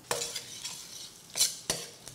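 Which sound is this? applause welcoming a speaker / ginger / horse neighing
ginger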